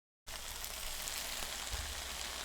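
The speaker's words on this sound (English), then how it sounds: "crackling sizzling effect is too darn loud." Food sizzles in a frying pan during a cooking stream. A steady, faint crackling hiss starts abruptly and continues evenly, with no talk.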